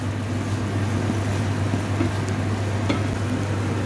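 Food frying and being stirred in a pan for Filipino-style saluna tuna, a dense continuous sizzle over a steady low hum, with occasional light scrapes of the spoon.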